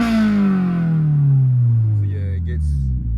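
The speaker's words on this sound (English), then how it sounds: "I'll give you guys a few little revs just so you can hear it" 2023 Toyota GR86 Premium engine with an open dump exhaust, a loud, close exhaust note that falls steadily in pitch as the revs drop after a blip, with a faint brief voice near the end.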